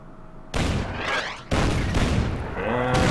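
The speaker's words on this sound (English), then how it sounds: "And we got artillery incoming." Two heavy artillery blasts in the Order of Battle war game, fought along the Burma Road near the Irrawaddy River, land about a second apart. Each is loud and booming with a long rumbling tail, and no one talks.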